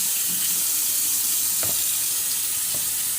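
Prickly pears rinsed under a running kitchen tap, a steady close hiss of flowing water with a few soft knocks of fruit handled in the stream.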